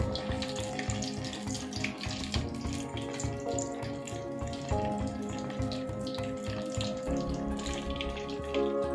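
Chicken potato macaroni rolls fry in hot oil, a continuous close bubbling sizzle with a steady hum underneath and no speech.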